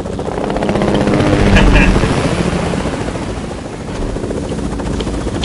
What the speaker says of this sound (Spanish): Cali, sube el helicóptero.